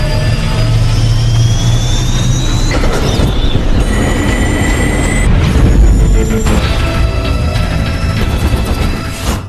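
A jet aircraft turbine running loud and steady throughout, with whining tones that rise and shift over a deep roar and rumble, fading out at the very end.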